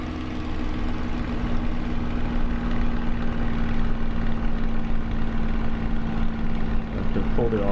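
The piston engine of a Spitfire in Microsoft Flight Simulator drones steadily at cruise, a loud, even propeller hum with no breaks.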